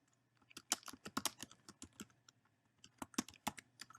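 Fast, irregular typing on a computer keyboard, close and fairly quiet, with bursts of clicky keystrokes separated by short pauses and no speech.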